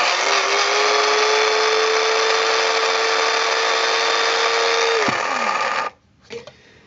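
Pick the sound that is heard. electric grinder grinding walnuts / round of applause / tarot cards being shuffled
electric grinder grinding walnuts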